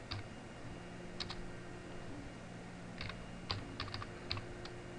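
Sparse keystrokes on a computer keyboard while entering text for a 3D model, a few faint separate clicks over steady background hum, no talk.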